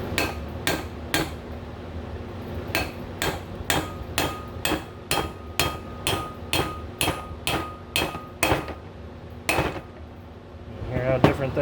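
Sharp metallic hammer strikes drive a wheel bearing race in with a race tool on the front wheel of a 1985 Chevy C10, a fast, steady series of loud ringing blows that pauses briefly near the end.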